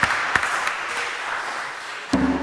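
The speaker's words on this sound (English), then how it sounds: "Round of applause for Liam." An audience applauds drummer Liam with a steady wash of clapping that holds for about two seconds, then ends in a short ringing tone.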